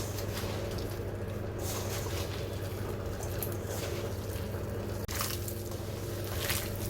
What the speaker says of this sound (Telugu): పిండి మొత్తం క్యాబేజ్ ముక్కలకు పట్టేలా ఇలా బాగా కలుపుకోవాలి.